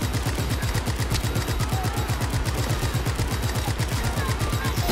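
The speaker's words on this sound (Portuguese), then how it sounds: "Tô levando tiro pra cacete, jovens." Rapid bursts of automatic gunfire from a firefight in the video game Just Cause 3, dense, loud and continuous with a steady thudding rhythm throughout.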